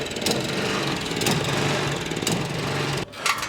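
A small engine in need of a carburetor clean runs rough with an uneven buzzing drone and sputtering surges, then cuts out abruptly near the end before a brief cough.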